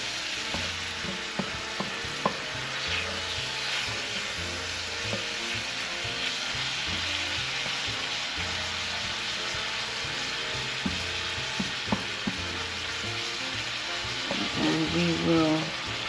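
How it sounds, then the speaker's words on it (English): Seafood including shrimp sizzles steadily in a hot pan just after being flipped, a dense, even frying hiss with a few light utensil clicks and a brief bubbling flare near the end, no voices. "I am going to give this seafood a flip so we can cook that on the other side"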